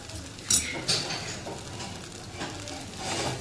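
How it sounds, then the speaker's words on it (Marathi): Leftover chapati and rice snack tossed and stirred in a pan, light sizzling under a few sharp spatula scrapes and clinks against the metal, close and alone. "झाकण काढून थोडंसं परतून घेते."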